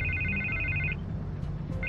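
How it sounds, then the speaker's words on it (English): A telephone ringing in Batman: The Telltale Series, with a loud electronic trilling ring pulsing in two bursts and a brief pause between them, alone without talk. "I can't get the phone to stop ringing."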